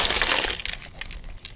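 Tumbled rocks and their polish slurry dumped into a small plastic ice cream bucket, a loud gritty clattering rush at first that thins into scattered clicks and light clinks of stones settling.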